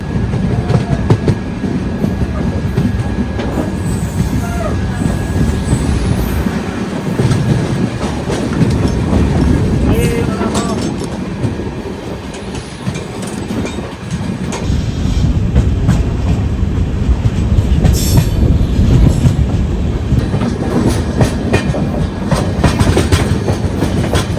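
The Shri Ganganagar - Kochuveli Express rolls along the rails, a loud, continuous rumble with rhythmic clickety-clack of wheels over joints and occasional faint squeals, steady throughout.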